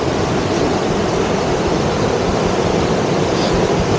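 A continuous loud roar of rushing typhoon floodwater, dense and unbroken, close to the microphone with no voices.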